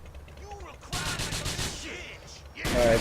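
Gunfire in the Grand Theft Auto game TLAD gang wars, with bursts of rapid shots and a heavy final volley over background game noise.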